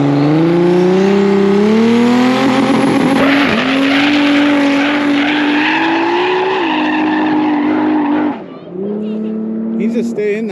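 A drag race car making a pass at the track, its engine a loud, steady high-pitched drone that climbs through gear changes before dropping and revving again near the end.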